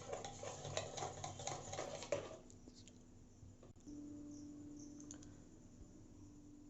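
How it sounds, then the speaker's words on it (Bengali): A spoon whisks a batter of flour and baking powder in a bowl for an eggless bread omelette, steady scraping and clinking for about two seconds before it stops and leaves a faint hum. "এটাকে ভালো করে একটু গুলিয়ে নেব।"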